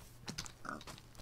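A pig in the video game Minecraft gives a few short grunting oinks in quick succession, close and fairly quiet, with a light clicking patter around them.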